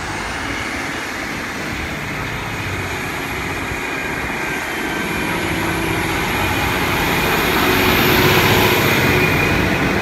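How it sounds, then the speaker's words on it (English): A Great Western Railway train to Paignton, led by unit 152.61, runs through Exeter St Thomas with a steady engine drone and rail rumble that gradually grows louder as it draws nearer, with no talk. "Now is the 1509 Great Western Railway service to Paignton."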